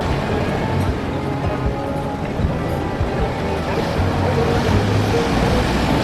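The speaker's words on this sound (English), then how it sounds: "You constantly hear the sound of the waters crashing onto these rocks." Ocean waves crash onto the rocks beside El Farallon, a cliffside restaurant in Cabo San Lucas. The surf makes a loud, continuous roar and wash throughout.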